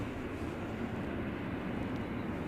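An Airbus A350 airliner turns in at Edinburgh airport, its engines a steady broad roar throughout, loud and continuous with no speech.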